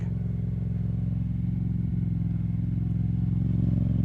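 A Yamaha MT-07 motorcycle rides on a bumpy road, its engine giving a steady, loud, low throbbing drone with a rapid pulse throughout and faint clatter from the bumps.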